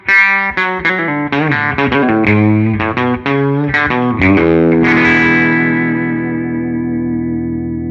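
Fender Jazzmaster strung with flatwound strings, picked close to the bridge: a run of bright, quick plucked notes and chords with slight drive, ending in a sustained chord that rings out and slowly decays.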